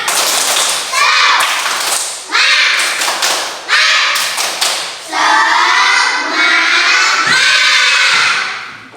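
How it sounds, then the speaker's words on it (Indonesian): A class of children performs a rhythmic 'tepuk semangat' clapping chant in a classroom, loud, close bursts of clapping and shouted chanting in repeated phrases, with thumps and voices rising together. "Tepuk semangat."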